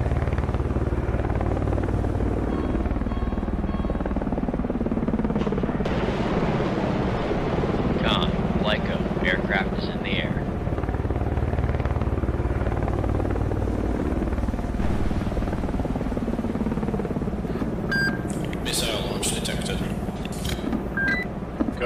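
Aircraft launching from a ship in the submarine game Cold Waters: a steady, loud rotor-like engine drone runs throughout, with brief electronic beeps and tones layered on top near the end.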